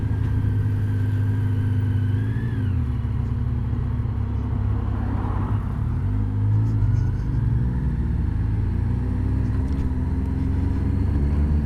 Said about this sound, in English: I'm gonna wait for that red car.